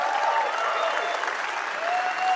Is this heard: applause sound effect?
yes